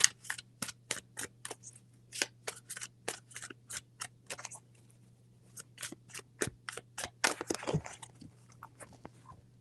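Tarot cards shuffled by hand in a rapid series of crisp riffling bursts, close and fairly quiet, with short pauses between groups over a steady low hum.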